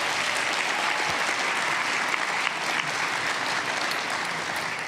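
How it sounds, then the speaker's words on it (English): Steady, dense applause from an event audience at a community awards celebration, sustained at even loudness throughout with no voices over it. "Let's give them all another big round of applause"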